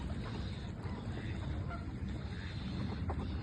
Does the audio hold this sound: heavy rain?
no